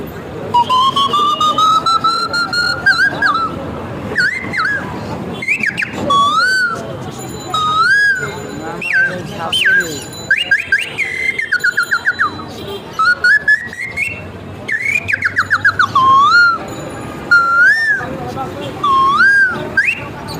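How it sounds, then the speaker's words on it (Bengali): A bamboo flute plays a lively tune of short chirping, bird-like trills and slides, sounding close and clear with brief pauses between phrases. "এটা ছিল তার ছোট ছোট বাচ্চাদেরকে আকৃষ্ট করার জন্য পাখির কিচিরমিচির সুর বাজানোর বাসি"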